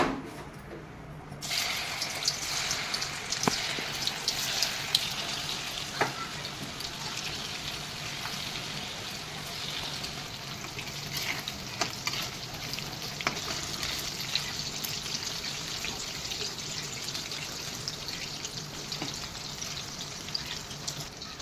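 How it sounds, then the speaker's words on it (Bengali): Battered lote fish (Bombay duck) pakoras, dropped into hot oil one at a time, fry with a loud, steady bubbling sizzle. The sizzle rises sharply after the first second and continues close up without talk. "তেল গরম হয়ে গেছে আমি একটা একটা করে পকোড়াগুলো ছেড়ে দেবো"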